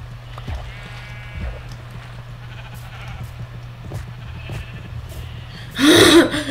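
Sheep bleat in a Minecraft-style video game survival session, a short loud burst near the end over a steady low game hum and scattered soft in-game noises.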